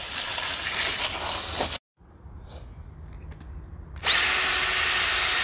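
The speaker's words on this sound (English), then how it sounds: "Now I'm going to drill holes in this log" A power drill bores holes into a log outdoors in a wooded setting, loud and close. The grinding runs steadily, cuts out for about two seconds, then the motor comes back with a high, steady whine.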